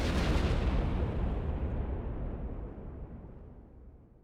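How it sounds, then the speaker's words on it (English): A big explosion from mod missiles in a Minecraft-style game, a deep rumbling boom that starts loud and decays steadily over several seconds, with no voices. "And finally, missiles from crayfish."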